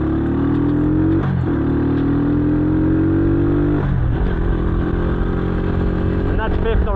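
A motorcycle accelerates on a bumpy road, its loud close engine note rising steadily through the gears with two brief drops at the gear changes, under a constant rumble and rattle.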